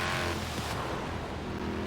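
In the racing game Forza Horizon 4, a car engine roars deep and loud, a continuous close rumble that eases slightly after the first moment with no voices.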